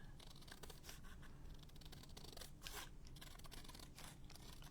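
Scissors snip paper in a run of quick close cuts, fussy cutting a design for a junk journal page; the crisp snipping and slight rustle stay fairly quiet and steady with no talk.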